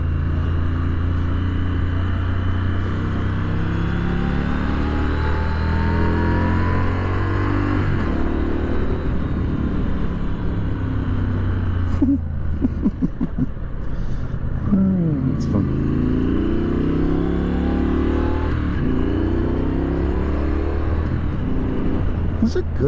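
Engine of a 2024 Triumph Scrambler 900 motorcycle on a downhill road, a steady close drone whose pitch shifts as the throttle rises and eases, with wind rush throughout.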